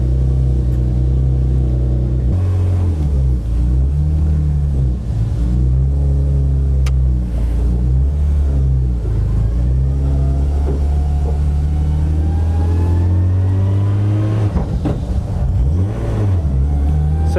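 A loud garage-built BMW E36 race car engine idles and revs repeatedly on a track, its pitch rising and falling in steady surges, close by and continuous throughout.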